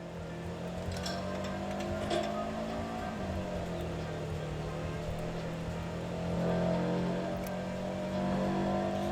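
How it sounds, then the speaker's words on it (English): A car's engine hums steadily as it accelerates on the road, a continuous mid-level drone with slowly shifting pitch and some road noise, heard from inside the cabin. "The acceleration on this car is actually really good."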